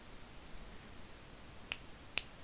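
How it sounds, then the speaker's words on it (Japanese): Two crisp finger snaps ring out in a quiet room, spaced about half a second apart, each sharp and isolated. "指パッチンはできるようになったんだけどね"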